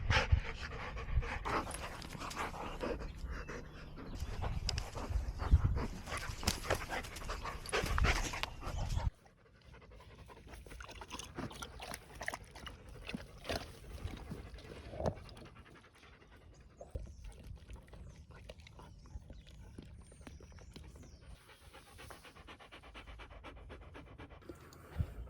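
Dogs pant heavily and rapidly close by, a loud rhythmic huffing at first that drops to quieter, steadier panting after a sudden cut partway through, with no talking.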